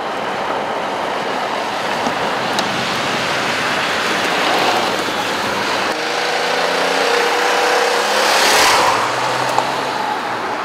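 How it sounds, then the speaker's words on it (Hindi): A new Skoda Fabia driven fast on the road, with a steady rushing blend of engine drone, tyre roar and wind noise that swells slightly as the speed builds, heard from inside the car. "इसके इंजन की पावर तेज़ स्पीड में कैसी निकल कर आती है, उसके लिए थोड़ी सी तेज़ रफ्तार हो जाए।"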